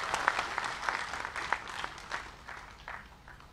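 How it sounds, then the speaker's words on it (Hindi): Crowd applause greeting guests at an official Indian event during a presidential visit, a steady wash of many hands clapping at moderate level with a few sharper individual claps standing out. "अतिथियों का स्वागत जोरदार तालियों के साथ करें।"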